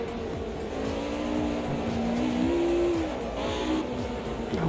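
A race car in Automobilista 2 screams past during qualifying, its engine pitch rising and sweeping as it closes in and overtakes, loud and continuous with no talk.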